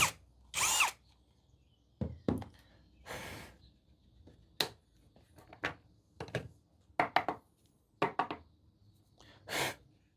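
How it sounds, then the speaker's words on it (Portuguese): A power drill bores down through a wooden workpiece in a series of short, loud, close whirring bursts separated by quiet pauses. "E agora é só furar de cima para baixo até encontrar essa furação aqui onde passa a barra de rosca."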